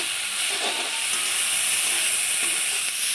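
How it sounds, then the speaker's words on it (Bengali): Garlic tempering in hot oil gives a steady, close, broad hiss with a faint crackle running under it the whole time, and no one speaks. "তেল গরম দিয়ে দিয়েছ, রসুন ফোড়নে দিচ্ছ"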